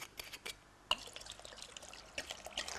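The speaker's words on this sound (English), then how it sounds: "as you pour the liquid in, obviously it's just going to fill the tub up" Alcohol is poured into a tub of herbs, giving soft, faint trickling and splashing with a few small drips and one sharper splash, quiet and close.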